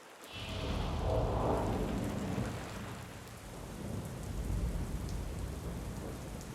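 Steady rain pours down with low rumbling thunder rolling through, one swell early and another later, a broad continuous wash heard without any voices during a rainy season in Nigeria.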